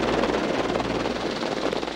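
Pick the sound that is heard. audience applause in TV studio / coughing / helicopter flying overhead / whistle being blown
helicopter flying overhead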